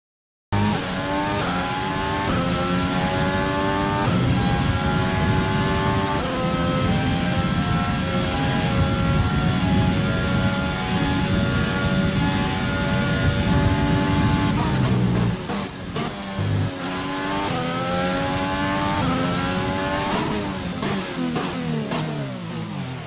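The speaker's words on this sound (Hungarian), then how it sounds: "a motorhangokat fogjuk most megnézni" Renault Formula 1 car engine from the F1 2020 racing video game, a continuous high-pitched whine rising and falling through repeated revs and gear shifts, loud and close, with no talking.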